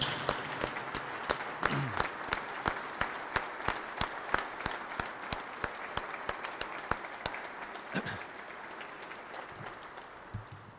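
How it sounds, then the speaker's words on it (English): A rally crowd applauds Senator Lee and Representative Ivory, sustained dense clapping with sharp individual claps standing out, steady and moderately close throughout. "Let's give another round of applause for Senator Lee and Representative Ivory."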